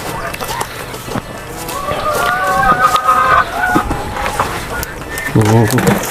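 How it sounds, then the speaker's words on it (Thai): Laying hens on a farm cluck in bursts of warbling calls through the middle of the stretch, fairly close, with someone talking over and around them. "เป็นไก่ไข่เนาะ ไก่ไข่ครับ"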